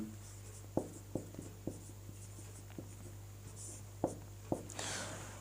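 Chalk or marker writing on a board during a Sanskrit translation lesson, with scattered sharp taps and short strokes over a steady low hum, quiet and with no talk.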